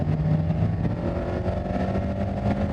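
A Mazda Miata ND3 engine drones steadily on track at Sonoma Raceway, a continuous mid-level hum heard from inside the car during trail braking, with no talk.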